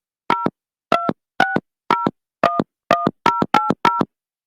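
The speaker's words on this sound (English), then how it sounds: "I could just dial it up from here and people can hear the phone call happening" Touch-tone telephone dialing: about nine evenly spaced two-tone beeps, each short and crisp, with silence between them and no talk.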